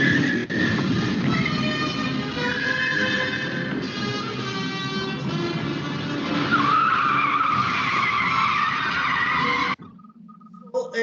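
A mobile-operated toy car drives and skids, giving a sustained whirring, scraping rush with a long skid that cuts off abruptly near the end, leaving faint quieter tones.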